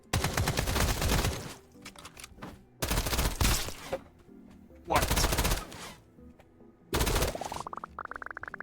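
SMG gunfire in the video game Escape from Duckov, heard as four loud automatic bursts, each about a second long and separated by short pauses, with a rising electronic tone under the last burst.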